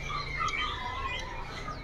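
Male ledekan laut birds chirp at a bird shop, several thin high tweets rising over a steady low background hum, close and fairly clear.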